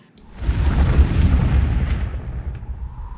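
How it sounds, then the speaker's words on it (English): A sudden, loud explosion sound effect bursts in after a moment of silence, then rumbles and crackles as it slowly dies away over a few seconds, with no voices. "you get unnecessary explosions!"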